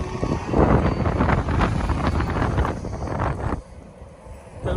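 Strong wind buffeting the microphone while walking downtown in Kansas City, Missouri, on a windy day: loud, continuous broadband rumble through most of the stretch, dropping off briefly near the end before surging again.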